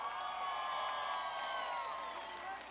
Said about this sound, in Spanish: Yo quiero un fuerte aplauso para los raperos venezolanos.